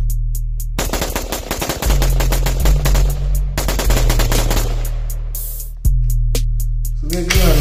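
A rifle fitted with a binary trigger fires rapidly outdoors, with long loud bursts of closely spaced shots separated by short pauses, harsh and close throughout.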